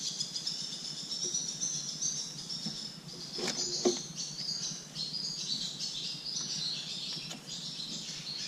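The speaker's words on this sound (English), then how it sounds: "About the birds, I think it's mating season." Several birds chirp and tweet steadily in the background, a busy layer of small calls running throughout with one brief rattle near the middle, heard at a distance under steady ambient noise.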